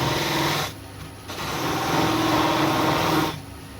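A wood lathe spins at about 1400 rpm while turning a natural-edged, winged holly bowl. It gives a steady, close, whirring hum that dips briefly twice and then picks back up.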